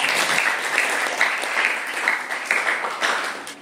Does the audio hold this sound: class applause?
yes